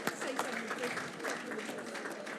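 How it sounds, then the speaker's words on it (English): At an awards ceremony, an audience applauds Dr. Charles Lucas with a steady wash of clapping from many hands, filling the hall evenly at moderate volume. "Give him a round of applause, please"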